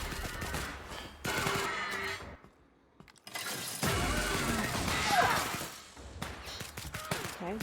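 Gunfire in the video game The Outer Worlds: loud bursts of rapid shots and impacts, a short near-silent gap, then more sustained firing with crashes, fading into scattered shots.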